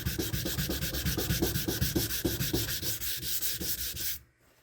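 A firearm stock being block sanded by hand: rhythmic back-and-forth rasping strokes, close and steady for about four seconds, then stopping abruptly.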